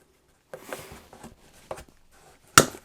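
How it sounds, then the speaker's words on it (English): Side cutter pliers bite through a stainless steel screw, with small handling clicks and scrapes first and then a single sharp, loud snap as the screw is cut. "can it cut through a stainless steel screw?"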